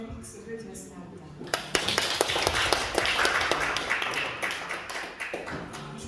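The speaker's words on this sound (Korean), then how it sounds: "감사와 영광의 박수를 드렸습니다" A church retreat congregation breaks into applause, sharp scattered claps that swell into steady clapping and then thin out toward the end, heard after a brief stretch of speech.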